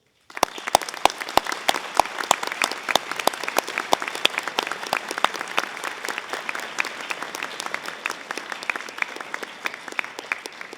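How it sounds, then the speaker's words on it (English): Friends and family at a ceremony applaud as a crowd, with dense, steady clapping that goes on without a break, a few sharp single claps standing out near the start. "What I do observe is there's lots of friends and family clapping themselves"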